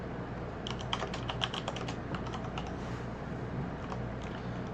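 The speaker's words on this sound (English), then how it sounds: "fat clicking and typing in I." Rapid key presses and mouse clicks clatter on a computer keyboard during a Chaos forces strategy game session, a steady, close patter of keystrokes, busiest early on, over a constant background hum.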